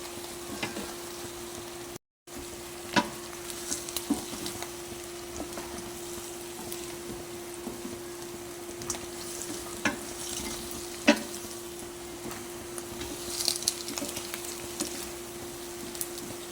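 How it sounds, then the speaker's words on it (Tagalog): Fried chicken wings stirred through salted egg sauce in a pan, with a steady low sizzle and repeated utensil scrapes and taps against the metal, close and unbroken apart from a brief gap near the start. "Lagyan na natin yung ating pinarito na chicken wings at mix lang natin yan"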